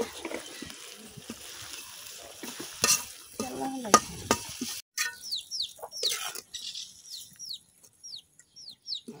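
A spice paste is sautéed with dried hidol fish in a village kitchen, soft sizzling and scraping of a spoon stirring in the pan, with intermittent bird chirps outdoors in the background.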